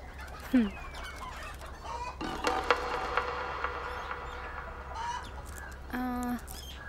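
Roosters cluck and crow close by, scattered calls and a drawn-out crow near the end over a steady low hum, with faint talk in the background.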